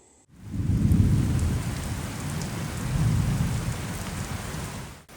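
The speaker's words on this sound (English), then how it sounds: "We got 3 inches of rain during this storm I'm showing you right here." Heavy rain from a thunderstorm in Northeast Tennessee pours down in a dense, continuous roar with deep rumbling swells, loud and close, with no voices.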